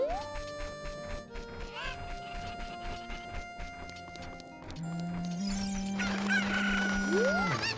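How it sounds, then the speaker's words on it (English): Chickens cluck and a rooster crows in Zelda: Ocarina of Time, mixed with game music and effects, with a rising squawk near the end. "Chickens."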